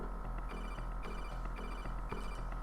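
An electronic telephone ring from the Sega Genesis Metal Gear game sounds in rapid repeating pulses, a steady chirping pattern over a constant low background hum.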